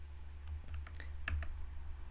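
A handful of quick keystrokes on a computer keyboard while typing a git command, faint and close, in short irregular clicks over a low steady hum.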